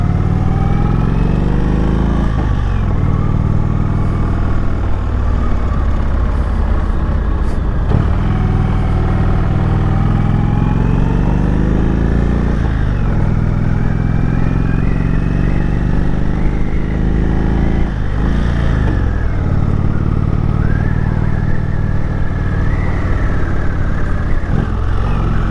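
A 2019 Indian Springfield motorcycle carrying a pillion through slow 15 km/h bends, its engine rumbling loud and close throughout, with rising and falling revs as it shifts and accelerates between corners.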